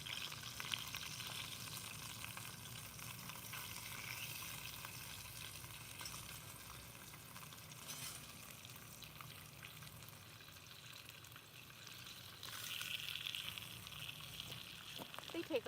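Food frying in a pan over an outdoor campfire gives a constant faint sizzle and crackle, with soft stirring and people talking quietly in the background.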